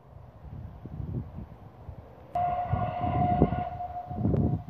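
A distant steam train whistle on the Epping to Chipping Ongar line in Essex blows a long, steady hoot over rumbling wind noise, starting midway and continuing to the end.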